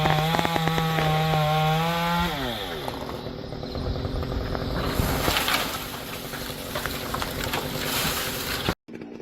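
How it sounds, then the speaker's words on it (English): A chainsaw revving and biting into wood while felling a large tree in a forest, a loud, sustained engine roar whose pitch sweeps down as the chain bogs into the cut, ending abruptly. "The chainsaw growls to life, revving, biting."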